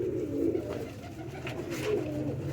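Pigeons coo steadily inside a cage, a soft continuous throaty burbling from several birds close by, with no talking.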